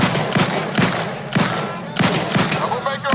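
Rapid gunfire from The Outer Worlds 2 sounds as a loud, dense fusillade of repeated shots at a quick, steady rhythm, close and continuous throughout.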